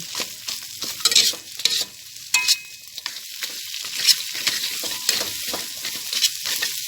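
Field rat meat with a little pork crackling stir-fried in a hot pan, with a steady sizzle and repeated scraping, clattering strokes of a spatula up close, and no talking.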